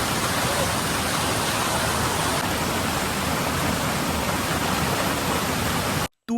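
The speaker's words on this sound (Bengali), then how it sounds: "বর্ষার ভরা জলে জলপ্রপাতের রূপের সৌন্দর্য দ্বিগুণ হয়ে গেছে।" Turga waterfall in Purulia in full monsoon flow gives off a dense, loud, unbroken roar of rushing water that holds steady before cutting off abruptly near the end.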